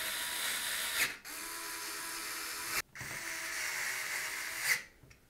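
A powered driver spins screws into a PC case to fasten the power supply, with two long buzzing whirs, each ending in a sharp click, close and fairly loud.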